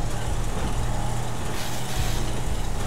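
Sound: car engine driving fast in video game GTA RP

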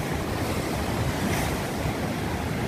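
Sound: sea waves on Kovalam beach, Kerala

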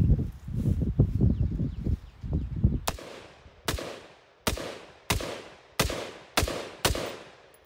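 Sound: rifle shots fired with Breek Arms Castle blast shield

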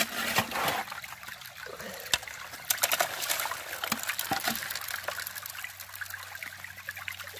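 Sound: water washing gravel through a gold prospecting sluice box

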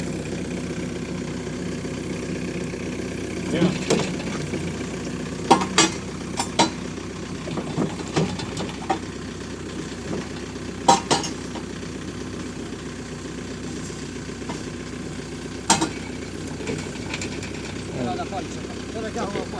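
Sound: forklift engine running while driving

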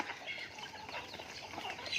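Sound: chickens clucking while gathering to feed

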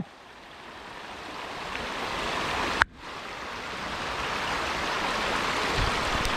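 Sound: Kacharam waterfall water flowing powerfully

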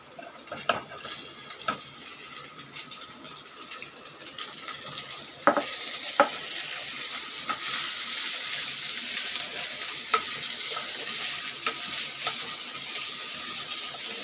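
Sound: ivy gourd sautéing with onions in a pan

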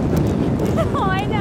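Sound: strong wind

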